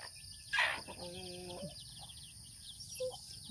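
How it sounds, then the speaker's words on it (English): Native chickens cluck nearby, with a sharp squawk followed by a short tonal call and a few softer clucks over a bed of insect and cricket chirping in the background. "native chicken"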